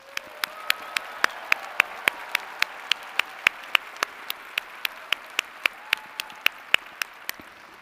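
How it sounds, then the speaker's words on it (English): A crowd at a university commencement applauds steadily, with sharp, evenly spaced claps standing out in a regular beat above the dense clapping. "join me, please, in another huge round of applause for the amazing class of 2025"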